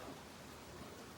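Steady outdoor rain falls as a continuous, even hiss of drops, moderately quiet, with no voices over it.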